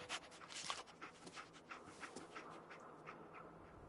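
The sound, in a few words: dog panting, Dogmeat companion in Fallout 4 video game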